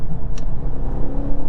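A 2023 BMW X1 xDrive28i accelerating gives a steady, loud low engine rumble with a faint turbo whir above it, heard from inside the cabin.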